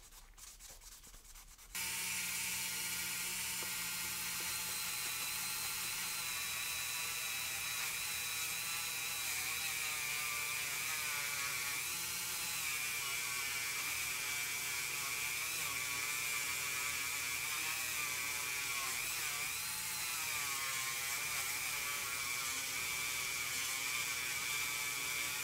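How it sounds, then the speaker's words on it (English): A 1941 Ford Taildragger Hot Wheels diecast car is sanded with 600-grit sandpaper, giving a steady, even rubbing hiss that begins after a short quiet moment and continues unbroken. "I'm just gonna sand with a little bit of 600 for now."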